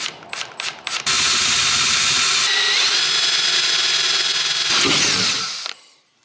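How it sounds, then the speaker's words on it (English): A power drill with a 3/8 bit bores out aluminum on a 6.7 Cummins engine part. Several short bursts start it up, then a loud, steady whine grinds on for about five seconds and winds down at the end. "I'm going to take a 3/8 drill bit, drill it out"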